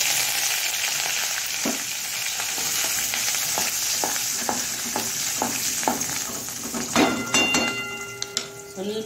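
Curry leaves sizzle and crackle in hot oil for a jackfruit seed chutney, with a run of sharp popping spatters and a few metallic pan clinks near the end.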